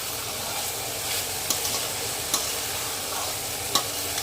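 Rice for pulao sautés in a pan over a high gas flame, giving a steady sizzle and stir with a few sharp clinks of the spoon against the pan, close and alone without talk.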